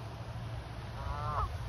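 A goose honks once at a distance, a short nasal call rising over steady outdoor background noise.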